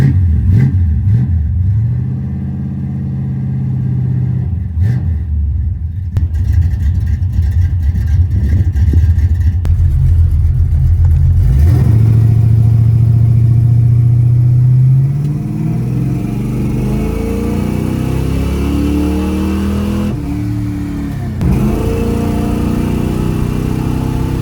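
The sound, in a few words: 383 El Camino G-body car driving and revving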